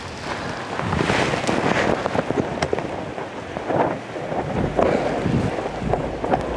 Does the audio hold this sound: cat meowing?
no